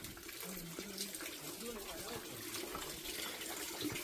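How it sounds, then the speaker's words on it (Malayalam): Water running in a small stream from a spring near a grape-growing village, a steady outdoor rushing wash with faint voices in the background. "ഇവിടെയൊക്കെ വെള്ളം ചാടിപ്പോണ്ട്."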